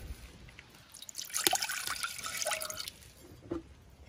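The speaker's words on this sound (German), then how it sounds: "Dann kommt das Wasser dazu" Water splashes and trickles into a cooking pot on a stove in short uneven pours, with a few drips and clinks toward the end.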